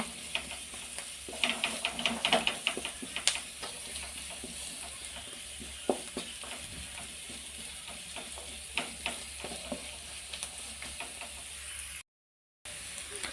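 Fried rice ingredients, including beans, sizzle steadily in a pan, with a clustered burst of spatula scrapes and stirring clatter early on, then scattered stirring knocks over the continuous frying hiss.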